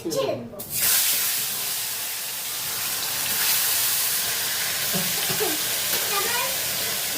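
Slices of ash gourd fry in a hot pan with a loud, steady sizzling hiss that swells in just after the first second and holds throughout, with a faint voice briefly underneath.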